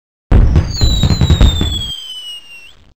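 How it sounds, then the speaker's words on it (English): Bloaters burst like fireworks in a Living Books children's game: a sharp loud blast opens into a crackling, popping burst lasting over a second, while rising and falling whistling tones trail off into a fading hiss. "They are popping here and there! The sky is filled with bloaters, detonating in the air!"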